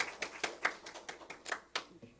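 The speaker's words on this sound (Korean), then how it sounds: "다시 한번 박수 한번 부탁합니다." Scattered, uneven hand claps from a church congregation applauding a young singer after her hymn during a Sabbath service, roughly eight sharp claps over a couple of seconds, moderately distant and fairly thin.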